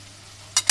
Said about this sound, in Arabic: سامعين صوت القرمشه؟